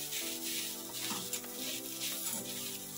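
Onions frying in oil for a beetroot curry, a steady broadband sizzle that runs continuously and close, with faint stirring scrapes in the background.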